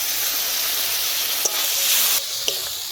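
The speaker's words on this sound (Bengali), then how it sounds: "তেল ছাড়া পর্যন্ত মশলাটাকে ভালো করে কষিয়ে নেব।" Turmeric and chili powder masala frying in oil with a splash of water for a village-style pangas fish curry, a steady close sizzle and hiss with a couple of sharp spatula scrapes against the pan.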